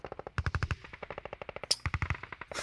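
Fast, evenly spaced automatic gunfire from a gun in the video game Hand Simulator, several quick bursts of sharp close shots with a brief pause before the firing resumes.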